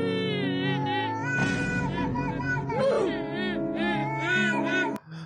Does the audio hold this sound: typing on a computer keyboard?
no